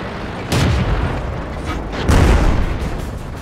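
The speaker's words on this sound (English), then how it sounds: "I'll just keep shooting into his tracks and keep him there." Two heavy booming tank gun shots in World of Tanks, the first near 0.5 s and a louder one around 2.1 s, each a broad low blast with a lingering rumble over steady background noise.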